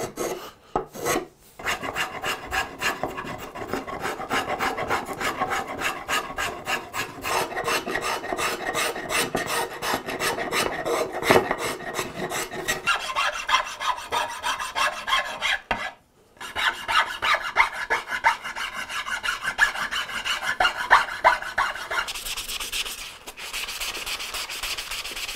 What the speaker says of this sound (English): So I fill the pores with sawdust to wick it in.